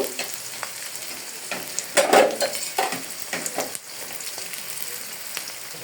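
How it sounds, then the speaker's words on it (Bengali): Chopped onion and sliced green chillies fry lightly in a pan with a steady soft sizzle, punctuated by several stirring scrapes and utensil clinks against the pan. "পেঁয়াজ কুচি এবং কাঁচামরিচ ফালি এটাকে আমি একটু হালকা ভেজে নিব"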